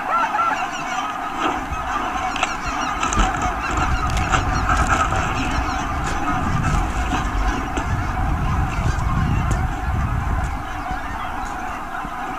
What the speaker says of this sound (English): There were tens of thousands of geese